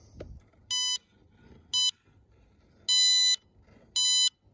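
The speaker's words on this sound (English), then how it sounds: "turn this on. See if it beeps now." Electronic beeps sound four times in short bursts, the first two brief and the last two longer, over low background rumble with no talking.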